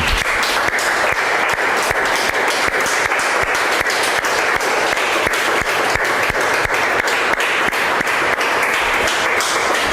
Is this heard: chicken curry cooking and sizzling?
no